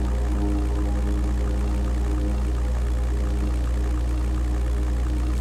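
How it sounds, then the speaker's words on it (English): Deep, droning piston engines of bombers in the 1998 flight game European Air War, a steady low roar that holds constant and loud throughout with no voices. "The gun sounds, these engine sounds of these bombers when you fly past them is simply amazing."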